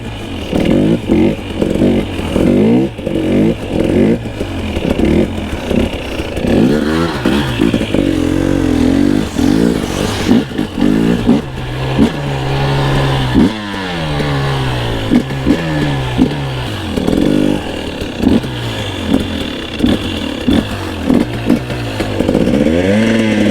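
A new two-stroke dirt bike engine revs hard and continuously while being ridden, mostly held in second gear, with repeated throttle blips and rising, falling pitch sweeps close up, loud and steady with no talk.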